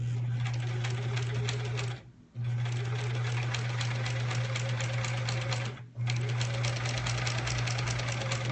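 A sewing machine stitches a quilt block in close, steady bursts of rapid rhythmic whirring, broken by two brief pauses before it resumes.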